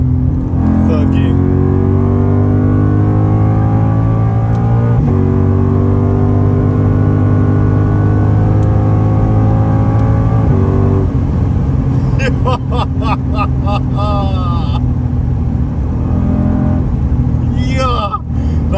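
A Lexus ISF car engine accelerates hard through the gears, each loud, close pull climbing in pitch toward the rev limiter before shifting down, with brief speech over the later stretch.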